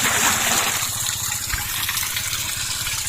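Water gushes from a tap on a farm, a loud steady splashing flow that holds throughout without any voices.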